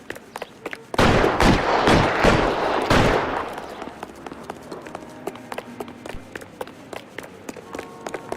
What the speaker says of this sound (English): That shooting's getting on my nerves.